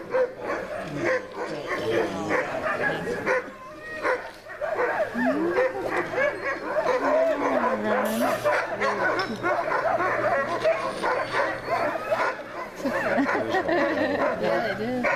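Sled dogs at a dog sled demonstration in Denali National Park, hitched to a training cart, bark, yip and whine excitedly in a dense, continuous chorus, with voices audible among them.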